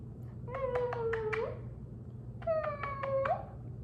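A pet cat meows twice, each a drawn-out, wavering cry, with a short pause between them. The cries sound close and loud against a quiet room.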